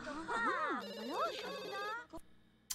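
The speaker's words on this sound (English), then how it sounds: "Oh no, the phone is ringing." A ringing telephone in The Sims 2 video game, a warbling electronic ring that cuts off about two seconds in, with a voice talking over it at moderate loudness.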